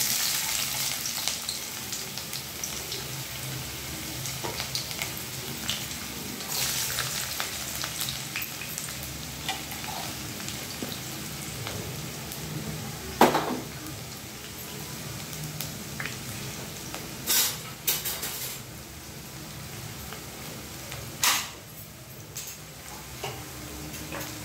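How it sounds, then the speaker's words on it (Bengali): Chopped onion frying in about 100 g of white oil in a karahi for chicken keema bharta gives a steady, close sizzle with light crackles and a few sharper ticks and pops, and no voices. "পেঁয়াজটা কড়ার মধ্যে দিয়ে দেব।"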